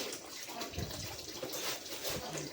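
Municipal tap water runs steadily at home, a close, continuous rushing splash with slight fluctuations and no talking.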